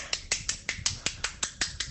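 About ten crisp finger snaps made by one hand as a joking one-handed clap, in a steady, quick rhythm, close and alone, each snap sharp and short.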